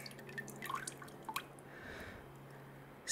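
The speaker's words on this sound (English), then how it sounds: "still a bit of oil dripping from there." Oil drips from the drained engine of a 2015 Mini One 1.2 during an oil change, a few small close drips early on, then a faint steady background hiss.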